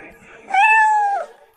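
A single drawn-out meow from a pitch-black cat, clear and fairly loud, rising then holding steady before trailing off, with no talk over it.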